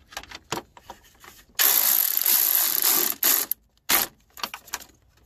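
Ratchet wrench turning a bolt while a radiator is installed in a Saturn LS1, giving short bursts of rapid clicking and one longer steady ratcheting run, close and loud with brief pauses between strokes.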